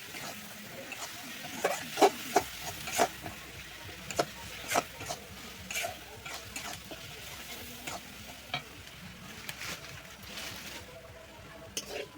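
Dal being stirred and fried in a pan, with a steady sizzle under repeated sharp scraping and clinking strokes of a spoon against the pan at an irregular rhythm, close up.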